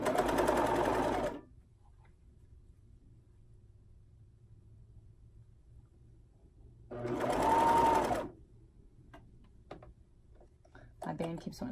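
A sewing machine stitching the deep V front of a pullover runs in two short bursts of about a second each, separated by a long quiet stretch, with faint background rumble between them.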